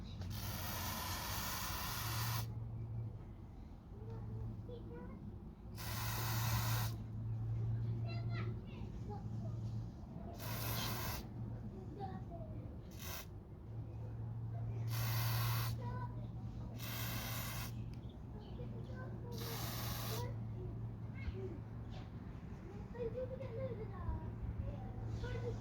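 Bursts of aerosol cleaner sprayed onto the mass airflow sensor of a Vauxhall Corsa E, seven hissing blasts of a few seconds each, close and loud, with a steady low hum and faint voices in the background.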